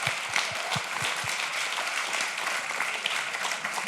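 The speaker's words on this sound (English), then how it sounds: "Round of applause for this amazing story." Applause from a conference audience after a talk on WordPress plugins, even crowd clapping over several seconds, with a few low thumps near the start.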